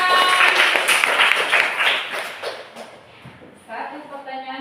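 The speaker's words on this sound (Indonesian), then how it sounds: "Iya, tepuk tangan." Classroom applause in Indonesia for a student's correct answer in a Pancasila quiz: a burst of clapping from the class mixed with chatter, fading after about three seconds as voices carry on.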